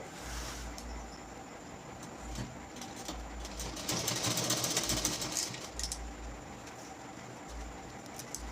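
A sewing machine stitching down the middle of a folded lungi cloth, a continuous rapid mechanical whir with slight surges in speed, steady and close, no one speaking.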